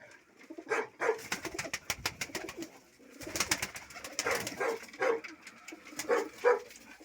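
Pigeons coo repeatedly at close range in a Ukrainian town setting, low soft calls recurring throughout, with a dog barking in the background and no talk.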